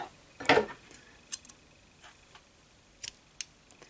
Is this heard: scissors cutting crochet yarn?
yes